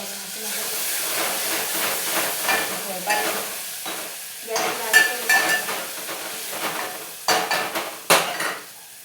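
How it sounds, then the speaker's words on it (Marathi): Ground spice paste dropped into hot oil, sizzling loudly then crackling as it is stirred with a metal spoon, with pan scrapes and clinks and bursts of steam, under occasional talk. "टाकू आपण हे पेस्ट केलेली आपण. लांबूनच टाकायचं ना, अंगावर शकतो आपल्या."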